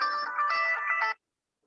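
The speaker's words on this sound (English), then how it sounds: "my phone was ringing." A phone ringtone plays loud and alone, a bright electronic melody with layered tones lasting about a second before cutting off into silence.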